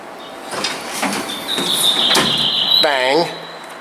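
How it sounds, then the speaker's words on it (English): Doors of a modernized Dover traction elevator in a Birmingham parking garage slide shut with a steady rumble, a high whine and a chime or tone near the end, heard close up. "why don't we watch the doors close again?"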